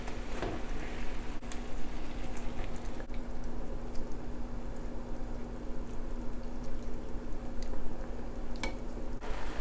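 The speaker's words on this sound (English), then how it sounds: "Let it come up to a boil." Sliced beef simmering in liquid for Japanese gyudon beef bowl, giving a steady low bubbling and gentle hiss with occasional soft pops, close and continuous throughout, with no talking.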